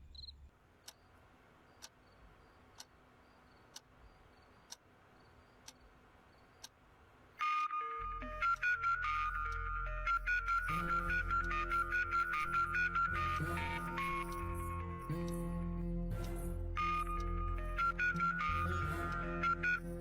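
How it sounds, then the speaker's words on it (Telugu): A few short evenly spaced beeps in quiet, then a loud electronic ringtone melody plays continuously and close. "చందు, ఏంటి ఈ టైంలో ఫోన్ చేసావు?"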